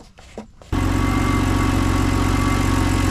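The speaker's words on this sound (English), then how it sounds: "I'm gonna run the engine slightly" A 2008 BMW X3 engine, under repair for a coolant leak, catches after a brief quiet start and settles into a steady, loud idle with an even low rumble close by.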